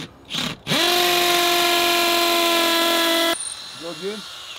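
A loud power drill drilling into a cement wall for Tapcon screws spins up sharply and runs steadily for nearly three seconds before stopping, followed by brief speech.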